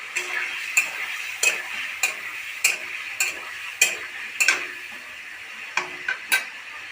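Steady hiss of paneer frying in hot oil with a little turmeric, with a series of regular clinks and scrapes from a utensil against the pan.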